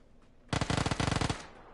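Rapid machine gun burst in the PUBG battle royale game, a dense string of about a dozen sharp shots lasting nearly a second, loud and close after near silence.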